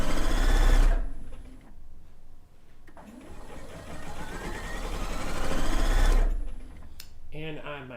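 A sewing machine runs a straight stitch with a 3.0 stitch length along binding, whirring in steady bursts with pauses, while a person talks at the end.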